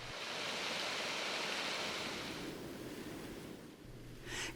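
A mountain river in Sequoia and Kings Canyon rushes with a steady, broad wash of flowing water, loud and continuous throughout, easing slightly near the end.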